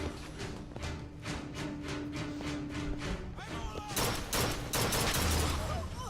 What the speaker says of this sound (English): There's a carbine down here, which I'm going to go ahead and use